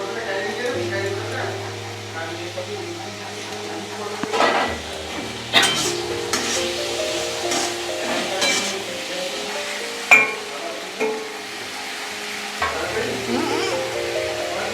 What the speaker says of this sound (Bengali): বড় বড় করে কেটে রাখা সেই পেঁয়াজগুলো দিয়ে দিচ্ছি।